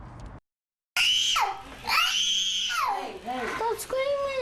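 A young child screams in shrill, repeated bursts while playing with toys at home, loud and close, broken by a short silence near the start, with babbling and cries in between.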